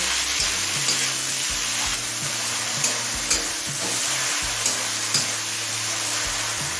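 Chopped tomato fries in oil for chicken ghugni, giving a loud, continuous sizzle with a steady hiss and occasional faint clicks and stirring taps throughout.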